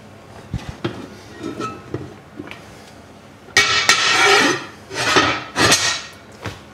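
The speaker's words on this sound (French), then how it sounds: "On va remettre le couvercle." A metal lid set back onto a pot of homemade chili bread dough before baking, with a few light clinks and clatters followed by louder scraping metallic knocks near the end, close and with no talking.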